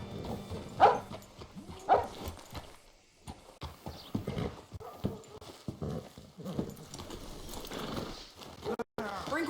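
Horse hooves clip-clop along in Red Dead Redemption 2 under frequent talking, with a dog barking and a horse whinnying now and then.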